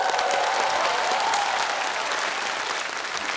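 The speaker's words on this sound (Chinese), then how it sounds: "掌声再次送给他。" A stand-up comedy audience in New York gives loud, sustained applause as one comedian leaves the stage, with steady clapping that tapers slightly at the end.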